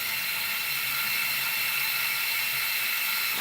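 Steady, continuous whirring of a power tool drilling new screw holes in a welder cart, a constant high, buzzy grind with no breaks, close and alone.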